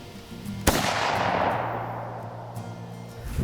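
A single sharp report from a Browning lever-action .308 rifle fired during a black bear hunt, a loud close crack followed by a long rolling echo fading over the next few seconds, with no talk.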